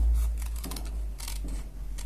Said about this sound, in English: And I'll cut these out.